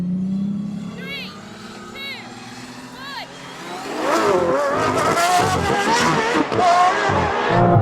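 Aston Martin V12 cars launch in a drag race, from Vantage to Valkyrie: a lone engine idles, then engines roar hard with rising, revving gear changes, loud and close, while a voice talks over the start.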